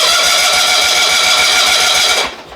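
Engine of a John Deere 70 skid-steer, started with the choke on, runs with a steady close rumble and a rapid even pulse, then drops off near the end.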